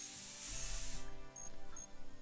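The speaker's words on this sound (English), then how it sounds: "we need to get some cover spray out" Cover spray hisses from a canister in the hunting video game theHunter Classic, a short steady spray burst at moderate level, followed by faint ambient rustling and a couple of soft clicks.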